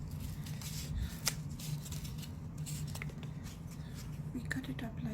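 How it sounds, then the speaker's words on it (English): Scissors snip through cardboard egg cartons in quick, close, repeated crisp cuts, with soft rustling of the carton between snips and a voice speaking faintly underneath. "We cut it up like this"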